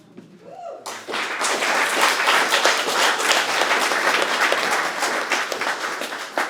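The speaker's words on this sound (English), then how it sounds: "I'm so thankful for the clapping between every poem." An audience breaks into applause after a poetry reading, with dense, loud clapping that starts abruptly after a moment of near-quiet and holds steady to the end.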